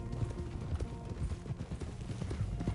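Horse hooves clip-clop at a steady trot in the Red Dead Redemption 2 video game, a continuous close rhythm of muffled thuds throughout.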